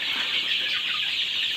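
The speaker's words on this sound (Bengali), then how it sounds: "এইখানে যে মুরগিগুলো আছে এটা অরিজিনাল মিশরীয় ফার্মি।" A flock of month-and-a-half-old Egyptian Fayoumi chickens on a farm near Dhaka clucks and peeps continuously as a dense, even chorus, with no voices heard.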